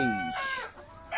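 A backyard rooster in a small Filipino home flock gives one short, close crow that breaks off quickly, followed by the start of another call.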